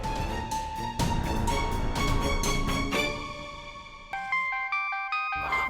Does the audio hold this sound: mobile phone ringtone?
yes